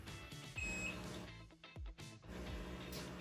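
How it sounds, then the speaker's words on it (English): A Nooro knee massager gives a short, faint electronic beep from its button, a thin high tone heard over soft background noise in a quiet room. "When you hear the beep, the display will change to low"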